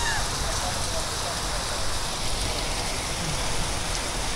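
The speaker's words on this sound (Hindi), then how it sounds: "ये देखो जी बारिश तो इतनी तेज़ हो रही है भाई, पानी तो रुक ही नहीं रहा।" Very heavy rain floods a street in Hisar, Haryana, a loud, continuous roaring wash of water and drops on surfaces filling the whole stretch without a break.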